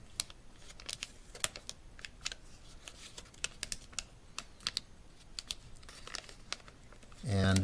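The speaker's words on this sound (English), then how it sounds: "Now take your butterfly, fold it in half." Paper being creased and folded into an origami butterfly, with quiet repeated crinkles and soft taps at a close, low level, ending in a brief louder rustle.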